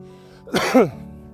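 A single light cough from someone with a lingering cold, two short close bursts in quick succession, heard alone.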